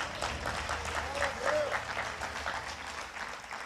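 A church congregation applauds loudly, with dense sustained clapping filling the space and a brief vocal cry rising over it partway through.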